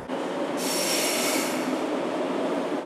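A metro train in Fortaleza runs along its rails with a loud, steady roar and a bright, hissing wheel squeal that rises partway in, continuous and close throughout.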